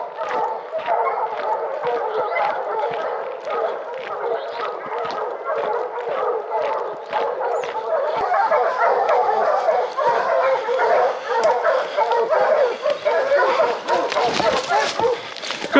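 Bear hounds on a bear track bay and yip continuously, several dogs overlapping in a loud, frantic chorus of barks, whimpers and howls that lasts throughout, with a voice mixed in.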